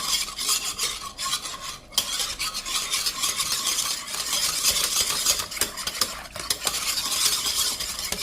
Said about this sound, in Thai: คนให้แป้งนะคะ